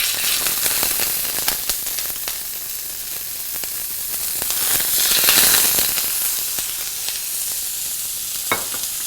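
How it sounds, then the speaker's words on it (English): Steaks searing in olive oil in a hot pan, a steady close, loud sizzle with crackling pops that swells in the middle and then settles, with no talking. "place the steaks in, and you'll see how quickly it takes just to brown them off"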